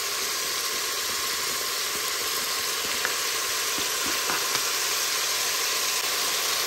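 Meatballs and coarsely chopped onion sizzle steadily in a Cookeo pot, a constant loud hiss and crackle with a few faint pops and clicks throughout, no voices.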